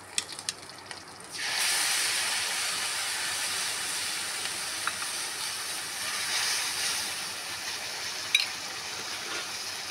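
Poppy seed and mustard paste with green chilli hits a hot pan while Pabda fish cooks, and a loud, steady sizzling hiss jumps up after a quiet start and holds to the end, with a few small crackles.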